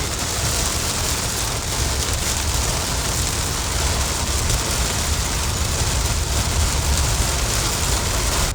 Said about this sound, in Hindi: बहुत भयंकर बारिश है भाई।